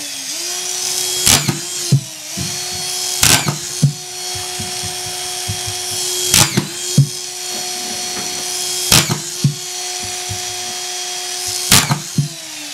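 Hilti SD 5000 A22 cordless drywall screwdriver driving 1¼-inch screws through a single layer of 5/8 drywall into wood, several short whirring bursts, each ending in a sharp bite as the screw seats, with a steady motor hum between them and no talk.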